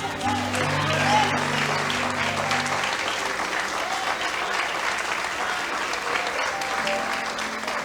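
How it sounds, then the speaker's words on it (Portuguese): A church congregation applauds together in a steady, full wash of clapping that lasts several seconds, with faint voices and a low tone underneath. "Se você pode, aplauda ao Senhor."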